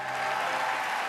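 Applause from an awards ceremony audience at the Microsoft Theater in Los Angeles, a dense, steady wash of many hands clapping at once, fairly close and unbroken for the whole moment.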